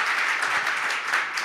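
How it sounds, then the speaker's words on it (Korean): An audience at a forum launch seminar in a National Assembly seminar room applauds the organizers with a dense, steady wash of clapping throughout. "이분들을 위해서 다시 한번 감사의 박수를 좀 부탁을 드리도록 하겠습니다."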